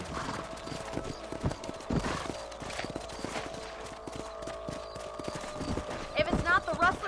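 Horse hooves clip-clop and gallop across open ground in the Western video game Red Dead Redemption, with a horse whinnying near the end and speech faintly underneath.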